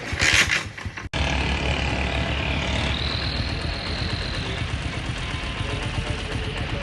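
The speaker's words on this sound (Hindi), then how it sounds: "ये जी हमारा हुंडा बाइक।" A Honda motorbike engine runs steadily at idle, a continuous close rumble with a wind-like hiss that holds evenly throughout, no talk over it.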